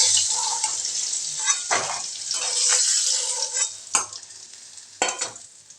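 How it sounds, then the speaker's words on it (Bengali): Fried arr fish being stirred in a hot oiled pan with potato and eggplant nearby, a close steady sizzle broken by several scraping strokes of a spatula. "মাছটা ভাজা হয়ে গেছে, এবার নাড়িয়ে দেবো।"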